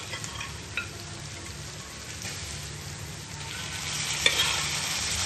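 Meat sizzles and fries in a pan with chilli as it is stirred, a steady close crackle with occasional scraping and a louder burst of hissing near the end, no voices.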